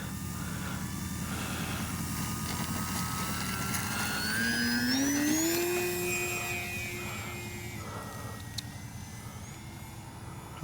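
An E-flite Sportix RC airplane flies aerobatics overhead, its electric motor whining steadily and rising in pitch as it climbs straight up. The whine swells loudest mid-flight, then eases back as the plane passes.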